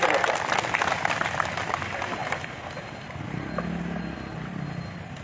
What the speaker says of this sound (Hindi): आप लोगों के जोरदार तालियों के बीच में मैं इन्वाइट कर रहा हूँ मान्यवर सुनील कुमार खलगो साहब